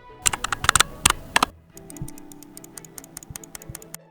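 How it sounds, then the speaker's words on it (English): Rapid computer keyboard typing during Minecraft horror mod play: loud uneven clusters of clicks for the first second and a half, then a lighter, steadier run of quick ticking keystrokes. "Keyboard noises, keyboard noises, keyboard noises, keyboard noises"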